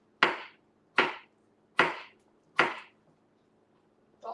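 Four evenly spaced sharp chops of a knife through raw beet on a cutting board, with a softer fifth knock at the end, close and crisp in a quiet room with no talking.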